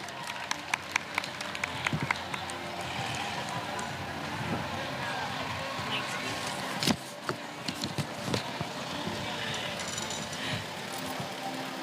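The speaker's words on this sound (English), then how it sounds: "Let's give him a round of applause, everyone" A crowd applauds a break dancer at the opening program of the Listowel Fair, with sustained clapping and scattered sharper claps over a steady murmur of voices and outdoor noise.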